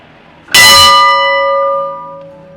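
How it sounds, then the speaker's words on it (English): A schoolhouse bell at a restored 1891 Victorian farmstead museum in Plano, Texas, struck once, a loud, close, bright clang that rings on and slowly fades over about two seconds. "The bell in front of schoolhouse."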